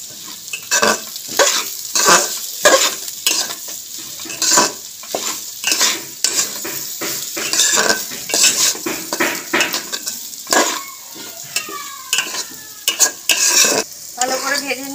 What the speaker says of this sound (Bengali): ভালো করে ভেজে নিলাম ঘিয়ের মধ্যে চালটাকে। বেশ অনেকক্ষণ ধরে নেড়ে চেড়ে ভাজতে হবে চালটাকে।